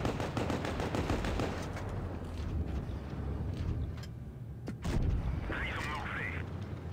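Tank cannon fire and battle effects in the mobile game World of Tanks Blitz, dense, loud booming shots and rumbling impacts running throughout, with a sharp burst near the end.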